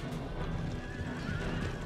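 A horse neighs loudly in the Empire: Total War battle, a sustained whinny over busy battlefield noise with hoof clatter and din underneath, no talk.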